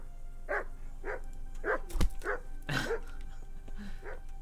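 In the video game Kingdom Come Deliverance, a dog barks repeatedly near the player, about seven sharp barks at a steady rhythm with a thud partway through, close and clear over ambient noise.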